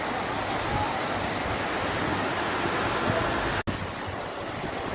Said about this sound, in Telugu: భాగీరథి ప్రవాహం